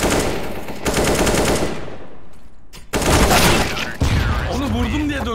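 Bursts of automatic gunfire in a competitive shooter game, rapid and loud, broken by a short quiet gap, with players talking over the shots.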